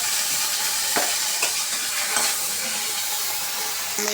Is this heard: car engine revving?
no